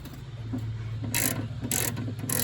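A ratchet tightens a bolt holding the battery tray on a 1999 Ford E150 van, with short bursts of ratcheting clicks repeating at a steady pace over a low mechanical hum.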